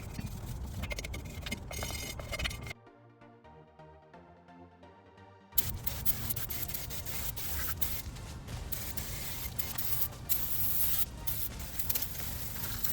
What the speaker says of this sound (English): if you have some brake part cleaners, let's go ahead and use it right now